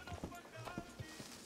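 Horse hooves clip-clopping in the Red Dead Redemption roleplay game RedM, a quick run of soft rhythmic hoofbeats mixed with a faint voice.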